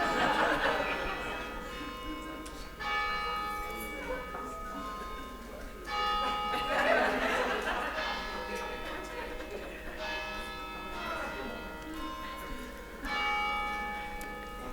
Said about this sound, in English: What a wonderful moment for that bell to ring.